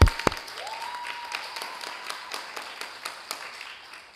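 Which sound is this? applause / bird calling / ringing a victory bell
applause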